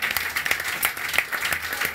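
Steady applause from a studio audience at a celebrity talk show in Dinslaken, with many hands clapping together, sustained and fairly close.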